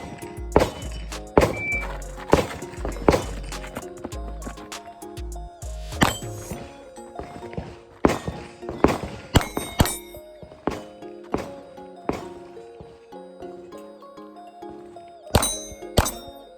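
Sig P320 pistol rounds striking steel targets in a run of sharp metallic clangs and dings, some paired in quick doubles, loud and fairly close with ringing tails and no talk.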